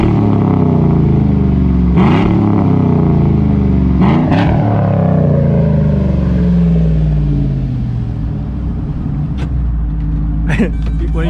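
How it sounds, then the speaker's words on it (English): A GMC Sierra truck's engine with a Carven exhaust is revved hard: two loud, sharp blips roar up and fall away, then the engine sinks into a droning idle that tails off, close and loud. "Give us a hard rev"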